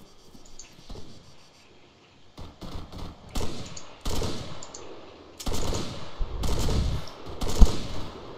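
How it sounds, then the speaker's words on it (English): Gunfire in the video game ARMA: bursts of automatic shots and scattered single cracks at moderate loudness, coming in irregular clusters that grow denser toward the end, with no talk over them. "Arian, your gun with the crazy yellow tracers"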